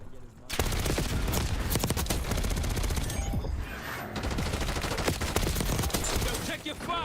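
Rapid gunfire from the video game Black Ops 6 crackles in dense bursts almost throughout, loud and continuous with only short gaps, layered over game sounds.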